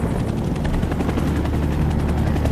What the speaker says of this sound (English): as a squadron of helicopters conducted a maneuver